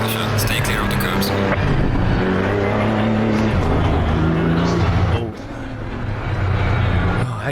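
Engine of a Porsche GT3 Cup 992 race car in the ACC racing game on low tire pressure, a loud sustained high-revving drone with steady tonal whine, briefly dipping near the end before surging again.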